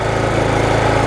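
A Kohler Command 6 single-cylinder engine salvaged from a scrap lawn mower runs steadily nearby, giving a continuous, even, buzzing drone.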